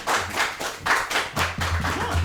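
A small group claps for a coach at a sports broadcast, a short burst of steady rhythmic hand claps, close and moderately loud.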